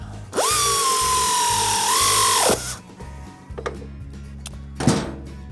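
A power tool tightens a bolt on Lowbrow Customs Shotgun Pipes exhaust on a Harley-Davidson Sportster, giving a loud, rising whirring burst of about two seconds, then quieter rattling and a short second burst near the end.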